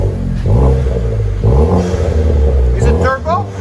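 A turbocharged 2016 Chevy Malibu with dual exhaust and muffler delete revs loudly up close, deep throaty blips rising and falling in repeated pulls.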